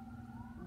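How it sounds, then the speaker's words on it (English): Emergency vehicle sirens wail faintly in the distance outside, a steady tonal whine heard alone for under a second. "I know, it's sirens."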